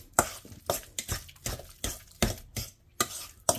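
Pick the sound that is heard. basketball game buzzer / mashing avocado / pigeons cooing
mashing avocado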